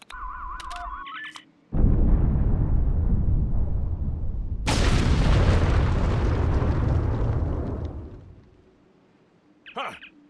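A detonated charge goes off in Star Trek Online, a sudden loud blast followed by a long rumbling roar that swells again before fading, with brief game tones and a voice around it.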